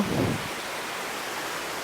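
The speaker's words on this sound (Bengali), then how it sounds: "হঠাৎ করে আজ এরকম বৃষ্টি দেখে" Sudden rain pours down in a steady, broad hiss after a brief louder rumble at the start, continuous and fairly close with no voices.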